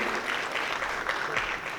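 Steady applause from an audience at a formal address by Indonesian football association and sports ministry officials, a dense uniform wash of clapping that stays even and fairly loud throughout, with no voice on top.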